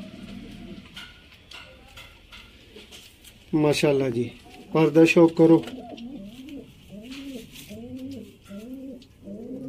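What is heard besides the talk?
Sialkoti pigeons cooing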